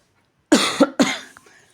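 A person with a sore throat gives two sharp, close coughs in quick succession, followed by a fainter rasp.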